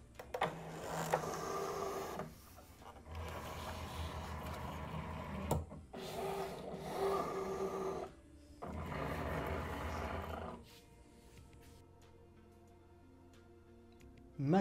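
A Cricut Maker 3 cutting machine loads its mat in several mechanical bursts of motor whirring and rattling, each lasting a few seconds with short pauses between them, then goes quiet before a final click.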